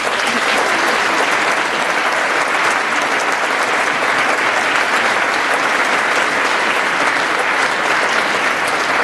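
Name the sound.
graduation audience applauding the faculty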